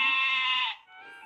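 A goat in the video game Twisted Wonderland gives a single loud, nasal bleat that wavers and fades, followed by a shorter, softer trailing bleat.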